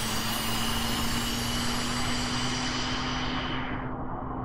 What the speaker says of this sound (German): APU bringt die Motoren, also nicht die Motoren, aber die Auxiliary Power Unit auf Drehzahl